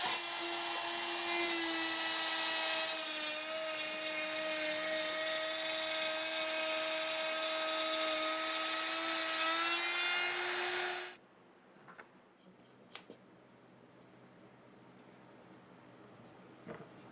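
A router bit cuts a circular hole in plywood for a cornhole board, a loud, steady high-pitched whine that runs for about eleven seconds, then stops abruptly and leaves a few faint clicks and knocks.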